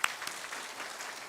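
A church congregation claps together at a Sunday worship service, a dense steady patter of many hands filling the room at moderate volume with no voices over it.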